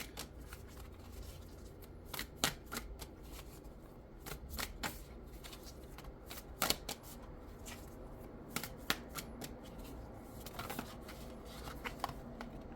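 Tarot cards shuffled by hand in a quiet room, a steady run of crisp riffling bursts and soft slaps, close and fairly faint, with no voices.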